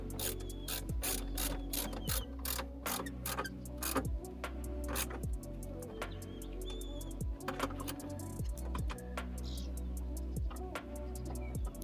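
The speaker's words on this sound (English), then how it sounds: "Tighten up these other couple of long mounting bolts down here." A hand ratchet clicks in rapid, repeated runs of sharp pawl ticks while tightening long mounting bolts on a truck, close and steady over a low rumbling background.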